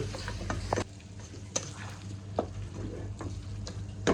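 A spoon stirs tomatoes and green chili in a cooking pan for a Kerala chicken curry, with soft sizzling under intermittent scraping strokes against the pan at an unhurried, irregular pace, close up.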